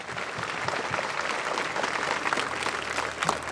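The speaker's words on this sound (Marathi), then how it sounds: "तुमच्या स्वतःसाठी टाळ्या जोरात व्हायला पाहिजे" Steady audience applause at a school award function, moderately distant dense clapping with a hall-like wash, no voices on top.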